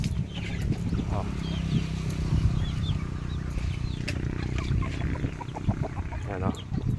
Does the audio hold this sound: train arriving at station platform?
no